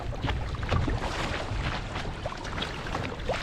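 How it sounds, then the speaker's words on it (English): Paddle strokes from a Vibe Hydra 130 fishing kayak driven hard against the tide on the open coast, steady splashing and water rush with soft wind noise throughout, no talking. "I'm just paddling against it now, sort of with an assertive paddle stroke"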